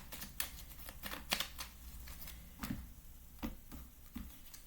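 Lenormand fortune-telling cards being shuffled by hand, a steady run of close, crisp riffling flicks and soft slaps repeating for several seconds with no voices.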